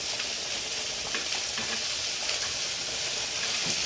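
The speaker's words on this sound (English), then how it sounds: "Using some of the grease that's coming off these hamburger patties. Help caramelize these onions." Onions frying in grease rendered from hamburger patties, with a steady, close sizzle and hiss that holds the whole time and a few faint stirring scrapes.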